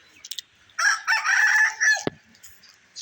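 A rooster crows once in a village beside a pond, loud and near, after a few short clucks. The long call ends abruptly, followed by a quiet lull.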